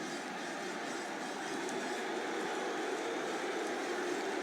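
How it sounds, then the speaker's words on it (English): Tyrone supporters at Croke Park's Hill 16 boo the Dublin team during an All-Ireland Gaelic football match, a dense, sustained crowd roar that stays constant and fills the background. "the booing that you're now hearing in the background is the booing of the Dublin team by Tyrone supporters"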